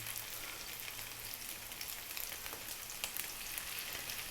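Small ground chicken patties frying in a pan, a steady close sizzle and crackle with no breaks.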